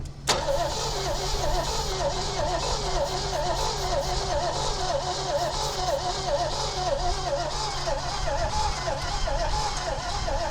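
An engine cranks briefly, then catches and runs in a loud steady chug with a rhythmic pulsing throb that holds for several seconds.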